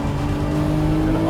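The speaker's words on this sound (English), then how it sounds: "Up on the curb, 4-wheel slide to the exit, wait for it to lay the power down, get those rears hooked up," A 2024 Lamborghini Revuelto, the 1,001-horsepower V12 Aventador successor, powers out of a four-wheel slide, its engine a loud, close, sustained roar for just over a second.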